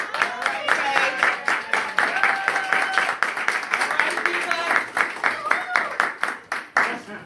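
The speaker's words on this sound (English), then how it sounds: "Can we get a sister a nice round of applause, please?" A storytelling event audience claps in a nice round of applause, sharp individual claps close and distinct amid the crowd, with voices mixed in throughout.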